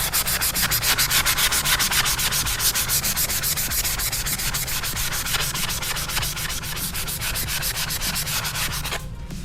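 A sanding pad rubbed across a motorcycle fender where a mount will go, close rapid back-and-forth scrubbing strokes continuing steadily until a brief stop at the end.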